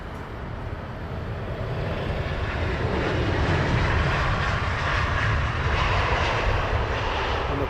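An airliner arriving on runway 27 right at Heathrow Airport roars steadily, the broad engine rumble growing louder as it nears, with no voices.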